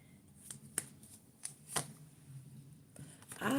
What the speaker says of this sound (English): I'm just trying to get a good shuffle.